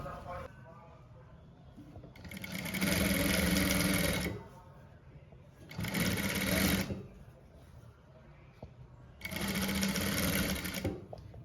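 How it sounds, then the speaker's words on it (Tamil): A sewing machine stitches a quarter-inch seam on a frock, running in three loud sustained bursts with short pauses between them and faint background noise in the gaps. "இதை அப்படியே ஒரு 1/4 இன்ச்சில் தைக்கிறேன்."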